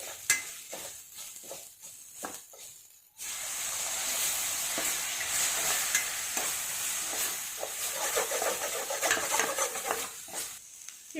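Spices for Tamil paruppu urundai kulambu sizzle and hiss in a hot pan after a few sharp clinks of a utensil, with stirring scrapes over the steady frying.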